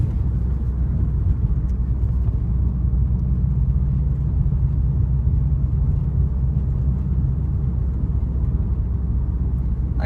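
A 2013 Subaru WRX rolls along a flat neighborhood road, its steady low engine and road rumble droning loud and unbroken from inside the cabin with no talk.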